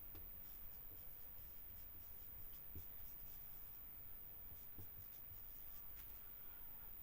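Chalk or marker writing on a classroom board during an English grammar lesson, a steady faint scratching texture running throughout with a couple of soft taps, quiet and continuous with no talking.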